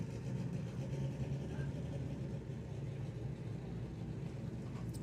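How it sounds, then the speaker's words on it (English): A drag-racing funny bike engine idles after a restart, a steady low rumbling drone heard at a distance with faint background activity throughout. "Jordan just lost fire there, so bike now restarted"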